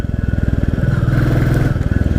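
A 2022 Royal Enfield Classic 350 single-cylinder engine thumps close and loud while riding, with a steady, rapid pulsing beat that swells slightly midway.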